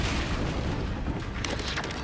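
Stupefy spell effects in the Hogwarts Legacy video game come through as a dense, loud, continuous rush of blasting combat noise with no clear gaps.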